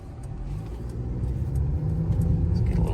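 Mercedes-Benz C300 W206 accelerating, a subdued low engine rumble that swells steadily louder over a few seconds, heard from inside the car.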